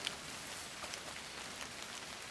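Light rain falls at a woodland campsite on a scouting survival fishing trip, a faint, steady patter of scattered drops with soft ticks on surfaces and no voices.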